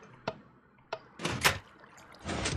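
A door opening by a redstone machine in Minecraft: two sharp clicks, then a scraping, rushing burst and a louder sliding sweep at the end, close and alone with no voices.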